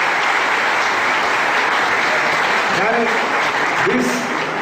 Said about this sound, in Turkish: Onlara bir alkış lütfen. Onlara bir alkış.